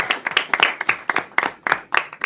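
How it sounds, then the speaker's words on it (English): Applause at a state education student advisory council meeting, a small group clapping in quick irregular close-up claps that are fairly loud and sharp, with no talking over them. "So let's give him a round of applause."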